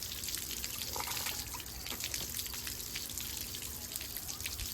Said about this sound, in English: that's the water coming out from where it picks up from the oil pan